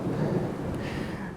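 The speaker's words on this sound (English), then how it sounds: "You can hear the thunder coming" Low rumbling thunder rolling under steady rain while carp fishing outdoors, deep and sustained for the brief moment with no talking.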